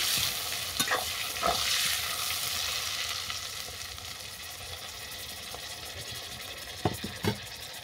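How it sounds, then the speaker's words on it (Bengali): Eggplant frying in hot oil in a pan, a steady close sizzle with occasional louder stirring scrapes and clatters near the start and again near the end. "এই তেলের মধ্যে বেগুনটাকে তুলে দিচ্ছি। বেগুনটাও বাদামি করে ভেজে নেব।"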